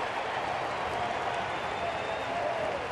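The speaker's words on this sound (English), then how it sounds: "that got a little life into the Fenway crowd here after a one-out walk" The Fenway Park crowd cheers and claps steadily after a Red Sox base hit during a 2009 ALDS playoff game against the Angels, a broad, constant roar with no single voice standing out.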